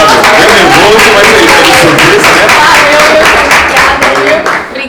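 Sustained audience applause at a live storytelling event, steady, loud clapping from a crowd that continues throughout and tapers slightly at the end.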